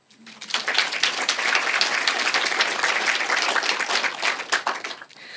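A room full of people applauding, a dense burst of clapping that swells quickly, holds for several seconds, then tapers off.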